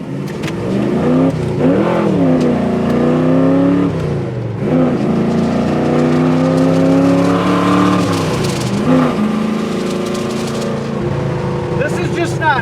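A 1969 Dodge Coronet R/T with a 500 HP engine pulls hard while driving, its loud engine note rising and falling through gear changes across the whole stretch, with people talking over it from inside the car.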